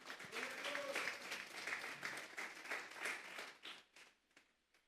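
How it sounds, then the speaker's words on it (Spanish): A church congregation applauding together, steady dense clapping that tapers off near the end, with faint voices mixed in. "Dele una ofrenda de palmas a Dios en esta hora"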